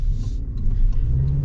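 A 2025 Toyota Tacoma TRD Off-Road Premium hybrid pickup accelerates with a steady, deep engine rumble heard from close by, with no talking over it.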